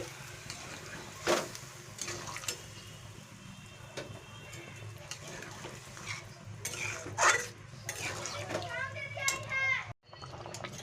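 A spoon scrapes and stirs a potato, pointed gourd and pumpkin curry in a metal pan as water is added. Irregular clatters and a few sharper knocks come over a steady cooking hiss, with voices murmuring in the background.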